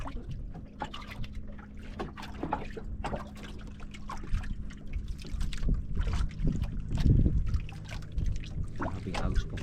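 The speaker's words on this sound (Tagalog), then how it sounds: "Grabe ang agos" Strong river current rushes and gurgles steadily close by, a broad watery wash that swells toward the end with scattered splashy bursts, no talk heard.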